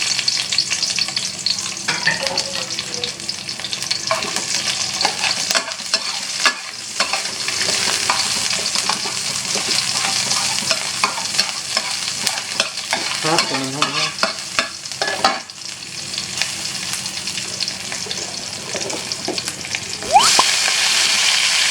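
Water spinach and garlic stir-fried with shrimp paste in a hot pan, a steady loud sizzle with scraping stirs running throughout, no talk.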